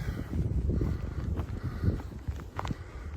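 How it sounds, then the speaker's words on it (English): Strong gusts buffet the microphone with a low, rough roar that surges and dips, and a few soft footfalls or knocks can be heard underneath. "super windy and cool. Cooler because it's windy, cloudy, off and on sprinkles."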